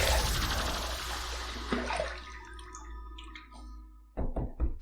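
Water running and splashing in a sink while rinsing after a shave with a Parker razor, a dense rushing flow that thins out, then a few brief splashes and drips near the end.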